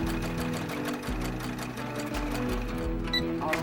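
A sewing machine stitches doll corset fabric in short bursts of rapid mechanical clatter. Each burst starts and stops quickly, and the machine sounds close with no talking.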